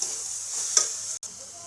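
Chopped onion and grated coconut frying in a pan, a steady hissing sizzle close by, with one brief clink partway through and a momentary drop, without speech.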